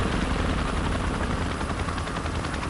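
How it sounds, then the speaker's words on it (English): Military helicopters fly together in the video game Arma Harekat 2, their rotors producing a loud, continuous beating roar that stays close and steady with no voices. "seeing those helicopters flying side by side, heading to the same location, same mission, gave me chills"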